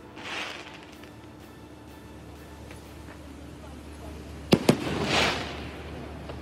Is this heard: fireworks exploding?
yes